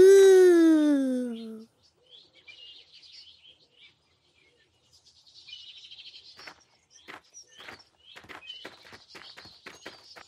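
A loud sustained tonal sound opens, then faint, sparse cartoon bird chirps flutter at a distance, followed by a run of quick, clicky taps and tweets.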